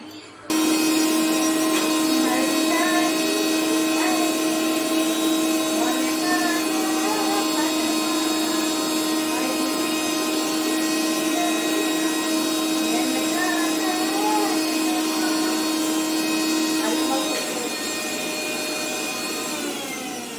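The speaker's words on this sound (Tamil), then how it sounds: "அதனால சின்ன கப்பில் போட்டு அரைச்சிக்க வேண்டியதான்." A mixer grinder whirs steadily as it grinds henna leaves in a small cup, a loud continuous motor whine with stable harmonic tones running for about seventeen seconds before winding down.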